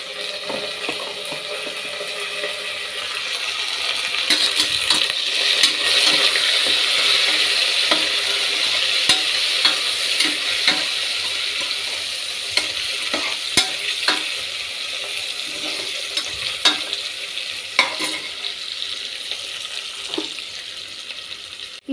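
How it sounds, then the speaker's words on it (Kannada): Cooked mutton sizzles in a pan for green mutton biryani while a spoon stirs and scrapes, giving steady frying hiss with repeated sharp clicks and scrapes and no talking. "ಬೇಯಿಸಿರೋ ಮಟನ್ ಹಾಕ್ತಾಯಿದ್ದೀನಿ"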